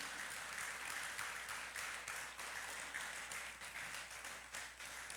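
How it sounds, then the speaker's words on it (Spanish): A church congregation applauds during a Spanish-language worship service, a steady wash of many hands clapping at a fairly distant, even level throughout. "dale el mejor de los aplausos al Rey de Reyes y Señor de Señores"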